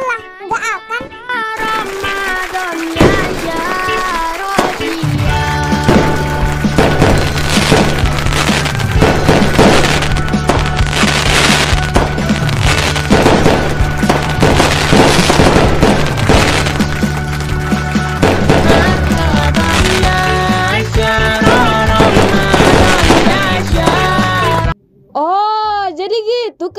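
Dense bursts of firecrackers pop and crackle in the Sakura School Simulator game, loud and rapid over a music backdrop for about twenty seconds, ending in a brief quiet gap and a short tonal sound.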